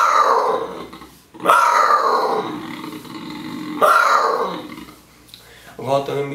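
Imitating a jaguar, a man lets out three loud, rough, falling roar-like grunts with pauses between them, close and forceful, ending with a short voiced sound.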